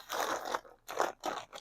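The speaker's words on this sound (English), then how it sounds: "And now we're going to actually open the bag." A fabric shipping bag is torn and opened by hand, making three close bursts of crinkling and ripping plastic with short pauses between them.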